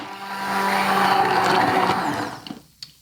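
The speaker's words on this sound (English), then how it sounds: "so I can work it in with an immersion blender." An immersion blender whirs loudly in a beer sauce for a Bavarian pork roast, a steady motor drone for about two seconds before it cuts off, followed by a few light clatters.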